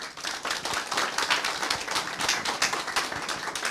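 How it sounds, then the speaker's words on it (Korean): An audience in a small political bar applauds to welcome a speaker onstage, a lively burst of many hands clapping with sharp, dense, slightly uneven claps that stay loud and continuous without talk. "박수로 모시겠습니다."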